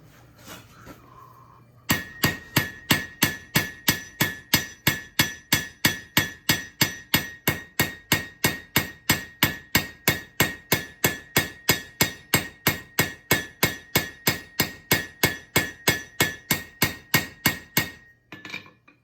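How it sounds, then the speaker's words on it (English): Rapid, evenly spaced hammer blows ring out on a knife blade being forged, around forty sharp metallic strikes in steady rhythm over about sixteen seconds, close and loud. "we're going to switch hammers. I'm going to start using this one and work out the edge and the length a little bit."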